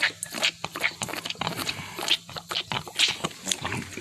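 Maggie Moo, a hungry farm animal, eating feed in the evening, with close wet crunching, snuffling and chewing bursts in an uneven rhythm, snorting through the nose, and a faint voice now and then.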